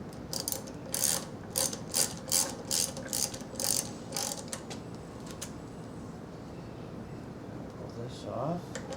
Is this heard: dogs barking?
no